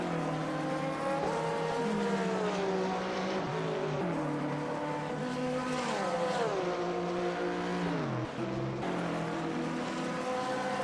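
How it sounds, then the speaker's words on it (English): GT3 race cars, including a Ferrari and a Porsche, in a sim racing game at the Red Bull Ring, with several engines droning together and pitch rising and dropping through gear changes, loud and continuous. "Looking out of the back of Lucas Simpsoner's machine at Paki Caruso in the Porsche"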